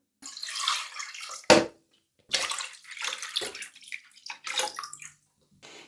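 Two litres of water pour in short bursts into a cooking pot for pork soup, splashing and gurgling, with a sharp knock partway through and brief pauses between pours.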